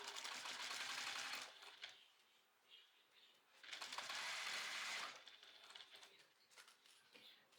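A sewing machine stitches a zippered vinyl folder in two steady whirring runs of about a second and a half each, separated by a pause with faint clicks and handling noises.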